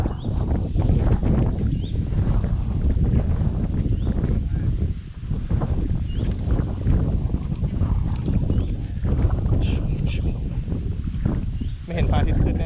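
Strong wind gusting across a mountain viewpoint at Phu Langka national park in Phayao, a loud, continuous buffeting roar against the microphone that lasts throughout, with faint voices under it.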